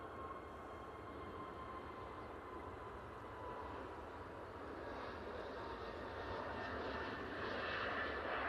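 An aircraft departing Manchester Airport for Palma, a steady distant jet engine roar with a faint whine that slowly grows louder over several seconds.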